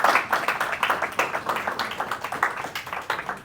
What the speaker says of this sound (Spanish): Dale un aplauso a Cristo entonces.